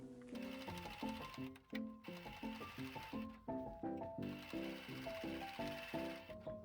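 A sewing machine stitches the lining of a cosplay costume bodice near its boning edge, running in short bursts with a pulsing rhythm, close and clear with no talk.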